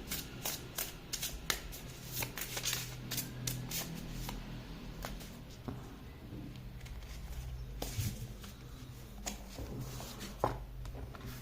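Tarot cards shuffled by hand at close range, quiet rapid riffling and flicking bursts repeating in an irregular rhythm, with no talk.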